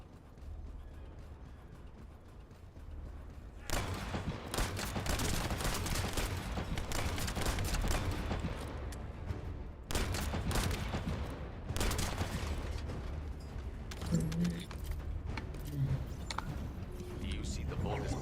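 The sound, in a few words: gunfire in video game The First Descendant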